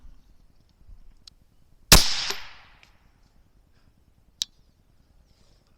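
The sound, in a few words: rifle shot while zeroing thermal scope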